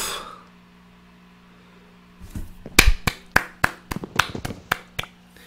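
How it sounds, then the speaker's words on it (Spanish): Hand clapping during Minecraft play, a quick run of about a dozen sharp, close claps in an uneven rhythm after a quiet stretch and a short burst of breath at the start. "Diréis, ¿cómo estás aplaudiendo mientras juegas?"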